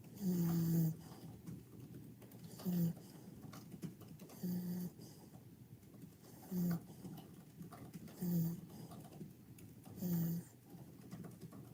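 Snoring during a tipsy drinking-game livestream, a regular series of low nasal snores repeating about every two seconds, faint and steady beneath a murmuring background.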